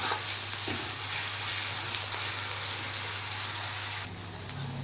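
Tomato with salt fries in a pan for a Bengali fish dish, a loud dense sizzle close up that holds steady throughout, with a few faint stirring knocks.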